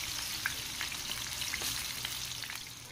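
Jackfruit pieces frying in hot oil for humba, giving a steady close sizzle with scattered pops and crackles throughout, a faint low hum underneath and no voices.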